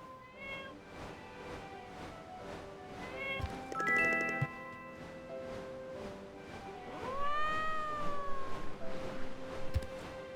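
A cat meows a few times, clear and close, in the video game My Time at Portia, over a looping game tune with soft plucked notes.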